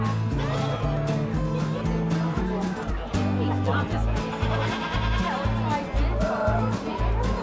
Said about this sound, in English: no wool festival is complete without sheep